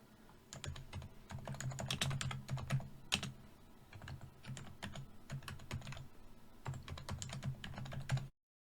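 Typing a command on a computer keyboard, with arrow key and enter presses, makes quiet, close clicking keystrokes in uneven bursts, then stops abruptly; no talk.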